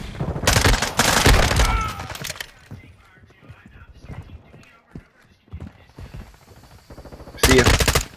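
Automatic gunfire in Modern Warfare 2 comes in two loud rapid bursts, one at the start and a shorter one near the end, with someone talking excitedly between them.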